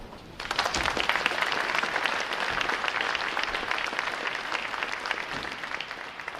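A large crowd at a Navy boot camp graduation applauds loudly and steadily for 1,035 recruits, dense clapping starting abruptly and sustaining throughout without pause.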